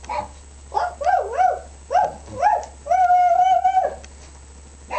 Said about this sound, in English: Your dog's talking to you.